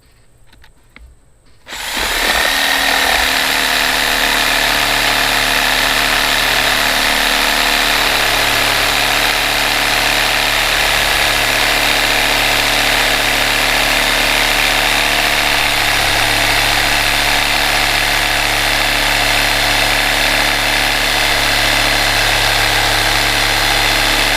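Corded jigsaw powered from an OKMO 1000 watt portable power station, cutting a thick piece of wood with a rusted blade: after a quiet start, a loud steady motor whine with buzzing blade chatter runs on without pause.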